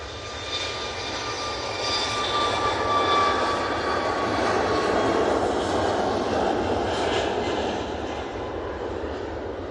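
TUI Boeing 737 Max 8 on its takeoff roll at Manchester Airport, a loud engine roar that swells through the middle and holds with a rising whine, no voices over it.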